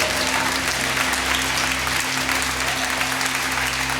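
Continuous applause from a large church congregation, dense and steady throughout, with a low hum underneath.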